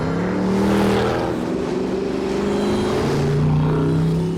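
A Mercedes-AMG 6.2-litre engine revving loudly and steadily, its deep throaty roar rising and falling continuously for several seconds with no voices.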